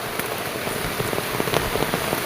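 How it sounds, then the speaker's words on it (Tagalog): Rain falls steadily, a loud, close, even patter of drops hitting surfaces, with scattered sharper taps and no voices. "ulan."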